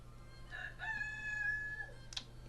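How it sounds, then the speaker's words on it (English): A rooster crows once in a long drawn-out call, moderately close but fairly faint, over a low background hum, followed by a short rustle. "there goes my rooster."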